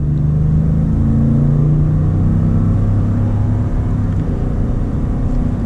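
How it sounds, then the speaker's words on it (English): A 2019 Ford F-150 pickup with a 5.0-litre V8 accelerating, a loud, steady engine drone heard from inside the cab, with rising tones climbing through the gears and no talking. "see how this 5-liter V8 performs."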